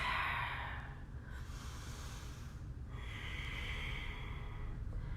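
Steady breathing during a slow yoga flow, soft inhales and exhales with faint nasal snorts, close and quiet over a low background hiss, with no talking.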